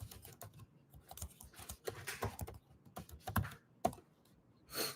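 Quick, irregular keystrokes on a computer keyboard while an email address is being jotted down in a shop, close and fairly quiet, with bursts of faster clicks and a louder thump near the end.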